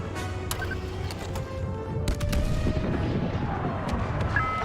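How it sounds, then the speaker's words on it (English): Orbital barrage in Star Wars Battlefront II pounds the battlefield with heavy rolling explosions and rumbling booms, dense and continuous, mixed with sharp blaster-like cracks and whines in the game's combat din. "Orbital barrage connected"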